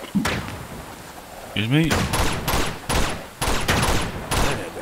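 Shotgun blasts in the video game Uncharted 2: Among Thieves, several sharp, loud booms spaced irregularly over a few seconds amid a busy combat soundscape, with a brief whooshing swirl and a short spoken remark between shots.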